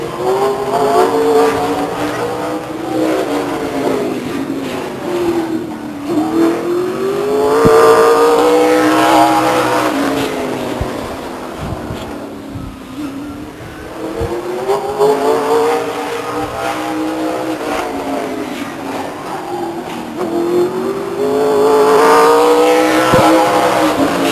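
A late-model stock race car laps Stockton 99 Speedway, its engine loud and close, rising and falling in pitch as it passes repeatedly around the oval.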